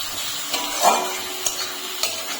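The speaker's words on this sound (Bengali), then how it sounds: "আলুটা দিয়ে ভালো করে কষে নেব।" A boiled potato being stirred and fried with spices in a pan, with a gentle sizzle under a few distinct scraping and tapping strokes of the spoon spaced about half a second apart.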